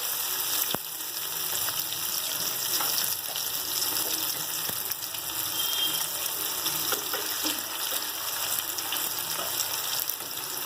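Hilsa fish frying in a pan, giving a steady, close crackling sizzle that runs unbroken throughout, with a few faint clicks and clinks mixed in and no voices.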